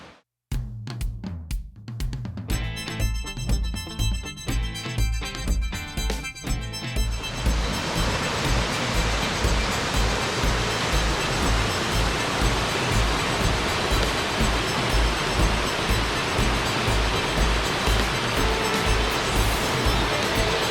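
Rushing waterfall at the base of the falls in Stone Mountain State Park, North Carolina, a steady, loud, broadband roar that builds over the first few seconds and then holds strong and unbroken.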